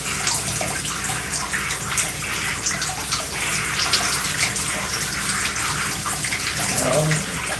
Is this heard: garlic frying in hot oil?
no